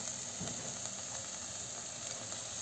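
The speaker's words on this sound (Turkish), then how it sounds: "Şimdi bu iyice yağda güzel kavrulsun soğanımız." Onions frying in oil give off a soft, continuous hiss and sizzle, fairly faint and steady with no talking.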